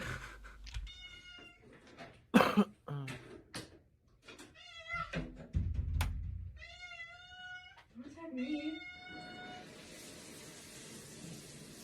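A cat meows and yowls repeatedly while being washed, its cries rising and falling between splashes and knocks, mixed with people talking and laughing.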